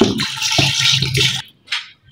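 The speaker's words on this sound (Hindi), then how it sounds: "मैं 2 लीटर इसमें पानी शामिल कर रही हूँ।" Water is poured into a pressure cooker in a home kitchen for fish head soup, a steady splashing gush that stops, then a short final splash.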